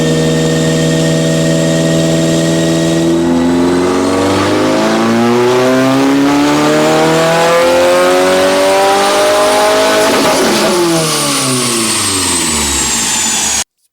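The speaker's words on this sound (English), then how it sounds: "this is a FA24 with equal length headers" Loud and close, a Subaru FA24 boxer engine with equal length headers idles, then revs up and back down in long smooth sweeps, its tone climbing and falling before cutting off abruptly.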